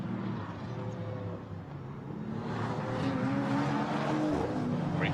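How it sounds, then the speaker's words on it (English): Chevrolet Camaro V8 GT4 race car at Paul Ricard circuit, a deep engine rumble rising in pitch as it accelerates, heard at a distance with other track noise, steady and moderately loud. "Great rumble from the Camaro, still a wonderful sound."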